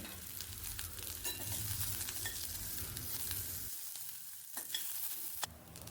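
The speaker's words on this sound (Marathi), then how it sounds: "थोडेसे तेल वापरून आपल्याला आता कांदा भाजून घ्यायचा आहे अगदी लाल रंग येऊपर्यंत" Onion frying in a little oil, a continuous soft sizzle with occasional stirring clinks, fairly quiet and close, dropping briefly near the end, with no talk.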